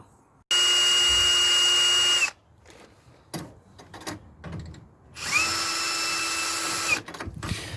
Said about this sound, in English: we'll put the drill through the 2 bolt holes just to put 2 little marks in